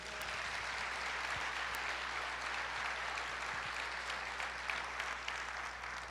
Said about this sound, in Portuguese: Glória a Deus, pode aplaudir o Senhor?